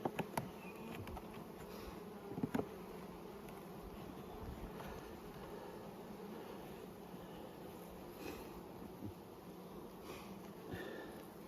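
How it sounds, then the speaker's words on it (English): Honey bees buzzing steadily in an open hive during spring management in the brood box, a dense close hum that holds throughout with a few brief handling knocks near the start. "Bees up in the second super, so bees looking like to be doing nicely."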